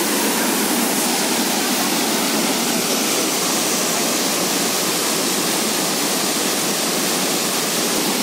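Jonha Falls near Ranchi, Jharkhand, roars as a constant, dense rush of falling water, loud and close, with no voices over it.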